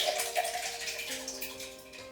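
Blended liquid sauce for peri peri chicken poured from the spout of a new pot, a steady close trickling and splashing stream with no talking.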